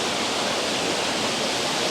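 A waterfall in Wales roars in a dense, unbroken rush of falling water, loud and close, with no voices over it.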